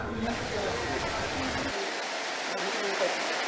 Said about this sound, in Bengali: আসলে বৃষ্টি এখনো হচ্ছে